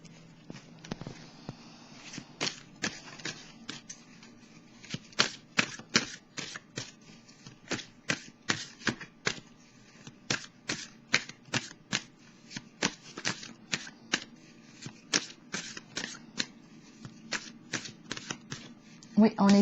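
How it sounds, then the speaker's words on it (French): Tarot cards being shuffled by hand, a long run of quick crisp riffling flicks in irregular bursts, close and clear over a faint low background hum. "Je vais piger maintenant une carte."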